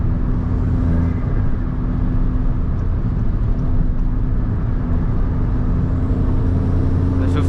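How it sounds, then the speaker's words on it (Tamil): A Stage 3 modified Skoda Slavia with a 6-speed manual pulls hard in fifth gear from about 110 to 130 km/h, its engine a steady, loud droning rumble with road noise throughout and no break. "இந்த 5th கியர் புல் பாருங்க"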